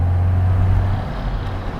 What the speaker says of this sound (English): But it's all about that gutsy B-series engine,